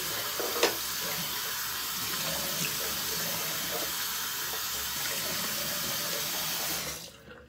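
A tap runs steadily for about seven seconds while a safety razor, a Rockwell Shave Plate 5, is rinsed under it, with a brief clink near the start before the flow cuts off.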